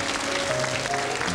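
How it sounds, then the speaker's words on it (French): Studio audience applauding on a 1991 French TV show, a dense, steady burst of clapping that fills the whole short moment. "On l'applaudit très fort."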